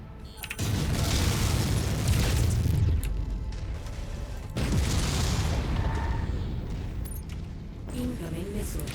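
A mech blows apart after a heavy PPC hit in the MechWarrior 5 video game: loud booming explosion bursts fill the stretch, a second blast around midway, with continuous game noise and talk running underneath.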